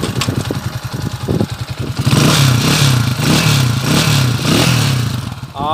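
An overhauled motorcycle engine runs close by, idling with a rapid putter and then revving up into a steady, louder throaty roar with some mechanical clatter.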